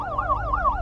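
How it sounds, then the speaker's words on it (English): Police sirens wail, sweeping rapidly up and down in pitch, loud and steady, with overlapping tones like more than one police car. "the sound of sirens followed by police cars parked in front filled the air"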